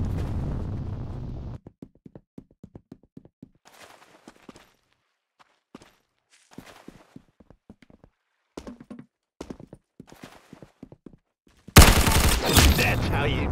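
Gunfire in the Roblox shooter Arsenal: a scattered series of sharp, close shots and clicks spread through a quiet stretch, ending in a loud, sustained burst of fire.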